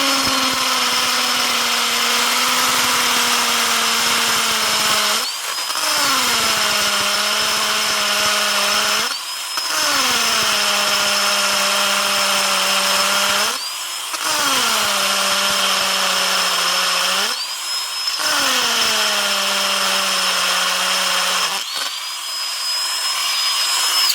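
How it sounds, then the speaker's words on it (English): A vintage Milwaukee half-inch brushed hammer drill running on a 2 Ah knockoff battery, drilling in five long loud bursts, its motor pitch sagging under load then rising as each burst eases, with short pauses between and no talking. "Let's see what this 1/2-inch can get done with this 2 amp hour knockoff battery, old brush style hammer drill."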